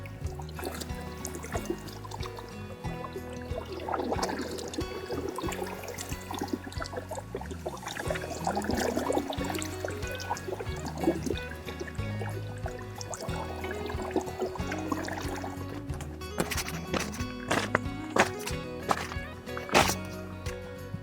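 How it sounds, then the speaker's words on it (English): Water on the Yukon River churns and boils as it wells up to the surface, giving an uneven gurgling, splashing wash that rises and falls, with a few sharper knocks near the end. "Yukon's an interesting river to watch. It just boils."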